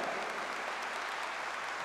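An audience at a municipal government report event in Acajete, Puebla, applauds, a dense, even wash of clapping from a crowd that holds steady throughout at moderate level.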